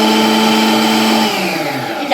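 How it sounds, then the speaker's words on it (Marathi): Onion being chopped in an electric food processor for a tomato-onion chutney, a loud steady whining motor hum that drops slightly in pitch near the end, close and alone. "तर आता आपण फूड प्रोसेसरमध्ये प्रथम कांदा बारीक करून घेऊया."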